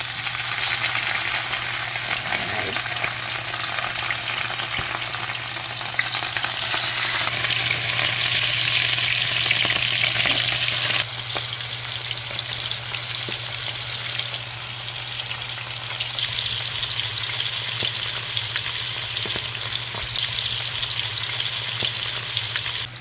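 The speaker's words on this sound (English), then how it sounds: "the oil is hot, so I'm gonna go in with the fish." Fish fries in hot oil for a Jamaican brown stew, giving a loud, dense, continuous sizzle that swells and eases a little without pause, up close and with no voices.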